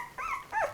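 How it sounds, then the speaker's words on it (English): A newborn labradoodle puppy, eyes just opened, gives two short high squeaky whimpers close up, the second slightly louder and falling in pitch. "So we hear them squeaking quite a bit more, and there have been a couple of barks that we've heard."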